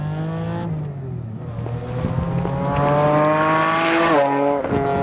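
A supercharged 2GR V6 in a Lotus-swapped Toyota MR2 revs hard and climbs quickly, its harmonics rising then dropping back in a loud, sustained blip heard up close with no talking.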